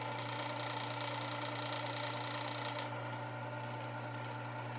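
A Work Sharp 3000 sharpener grinds a knife edge with a steady, continuous motor whine and rasping abrasive hiss that stays loud and close the whole time, easing slightly partway through.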